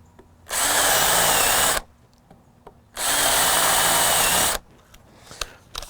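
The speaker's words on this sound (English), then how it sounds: "to a drill bit that will drill the pilot holes for our decking screws" Power drill boring pilot holes for decking screws into wood on a DIY jet ski dolly build: two loud, steady whirring runs of about a second each, separated by brief pauses, close up with light handling noises afterward.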